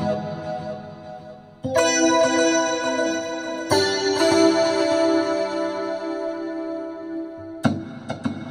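Electric guitar played through a Line 6 HX Stomp on a crystal clean setting, with delay feedback, delay mix and reverb mix boosted: sustained chords ringing out with long echoing tails and wash, each new strum swelling over the lingering decay.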